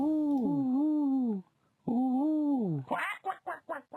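Duck sound in the puzzle game Rusty Lake Paradise: two drawn-out, wavering nasal calls, then a quick series of short, clipped quacks, clear and close with no talking.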